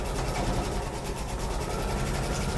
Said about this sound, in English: let me go ahead and press the presser foot down and go ahead and sew this through